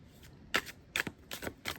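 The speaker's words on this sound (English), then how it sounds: "let us go ahead and start pulling some tarot cards" Tarot cards being shuffled by hand, four quick crisp riffling bursts with short pauses, close and clear, with no talk.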